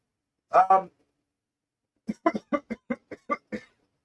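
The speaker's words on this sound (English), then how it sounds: "let me just cough" One sharp double cough up close, followed after a pause by a quick run of short staccato bursts like rapid coughing or throat clearing.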